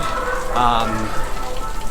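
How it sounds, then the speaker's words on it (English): Heavy rain pours down during a thunderstorm at a theme park, a dense, close, steady hiss of drops hitting surfaces that fills the short stretch, with a brief muffled voice in the middle. "It is pouring down rain, and thundering and lightning."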